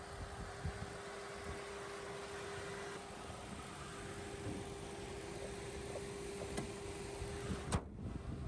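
MG ZS Astor 220 Turbo with a 1.3-litre, 1300 cc inline three-cylinder turbo petrol engine idling, a steady low hum with a faint constant tone and no talk over it.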